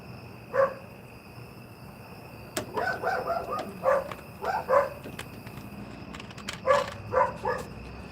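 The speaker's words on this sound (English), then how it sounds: "this dog just sits there and barks the whole time" A dog barks repeatedly in short, fairly distant yips, scattered in loose clusters over an outdoor background hiss, with no talking.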